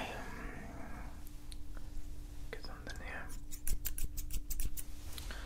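Barber scissors snipping hair in an Italian barbershop haircut and shave role play, a scattered few clicks and then a quick run of sharp close snips, with a whispering voice throughout.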